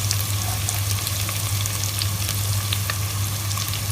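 Sliced onions and half a head of garlic fry in hot oil for a tripe bhuna, giving a steady, close crackling sizzle with scattered pops throughout, over a low constant hum, with no talking.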